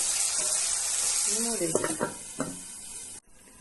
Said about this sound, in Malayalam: ഇതൊന്ന് ഇളക്കി യോജിപ്പിച്ചതിന് ശേഷം നമ്മൾ ഒന്ന് മൂടി വയ്ക്കുക.